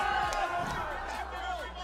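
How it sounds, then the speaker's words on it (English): Esports arena crowd at a SEN vs LEV match, applauding and cheering as a fairly faint, continuous roar of many voices and claps heard from a distance. "Round of applause."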